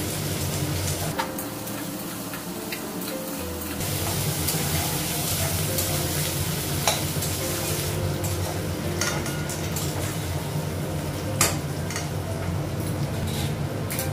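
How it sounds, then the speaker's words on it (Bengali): Potato and onion fry in a pan with dried and green chillies. A steady sizzle hisses under repeated scraping and stirring with occasional sharp clicks of the utensil, all close up and with no talking. "আলুটা পেঁয়াজটা একসঙ্গে ভেজে দিলাম"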